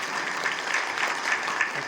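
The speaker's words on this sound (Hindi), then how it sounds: "एक बार जरा तालियां बजा दीजिए" Audience applause at a stage performance, a steady dense clapping from a crowd that fills the whole stretch at an even level, close and moderately loud.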